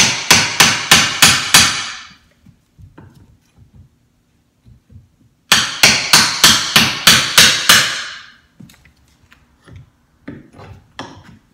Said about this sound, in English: We got to pull those out with the hammer.